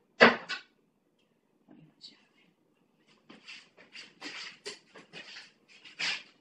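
A dog at a house door gives a sharp knock followed by soft whimpers and scratchy rustling sounds, close by, while a person speaks quietly in between.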